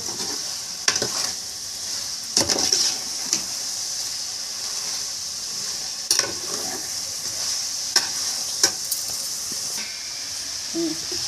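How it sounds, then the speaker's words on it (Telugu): Chicken with chili and salt is stirred in a kadai over a steady hiss of cooking, with several sharp scraping strokes of the spoon against the metal spaced across the stretch, no voices. "ఇప్పుడు కళాయిని పట్టుకొని జాగ్రత్తగా కలుపుకోవాలి"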